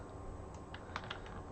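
Computer keyboard keys pressed during a software tutorial, a few faint, soft clicks close by over a low steady background hum, with no talking.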